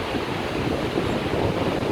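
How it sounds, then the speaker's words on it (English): Strong wind roars and buffets steadily against the microphone on the Everest Base Camp trek in Nepal, a dense, rushing noise with no pauses. "Oh wow, that's very windy."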